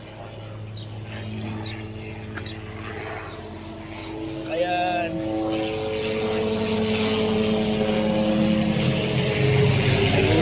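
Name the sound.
helicopter passing overhead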